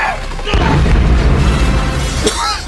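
A hand grenade explodes in a loud, sustained boom with a rumbling, crackling tail lasting a couple of seconds, amid excited shouting voices in a dramatic street scene.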